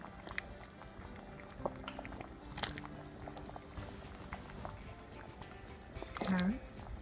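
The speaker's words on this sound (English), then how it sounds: "soup begins to boil, I'm going to just throw these vegetables in" Onion, carrot and celery are thrown into a pot of beef soup at a rolling boil, with continuous bubbling, a few splashy plops and clinks, and a louder splash near the end, heard close under quiet room sound.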